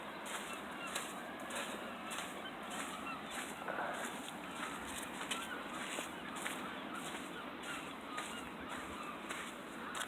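Seabirds calling by the sea at the Porth caves on the coast, their faint repeated honking cries sounding at a distance over a steady wash of wind and surf.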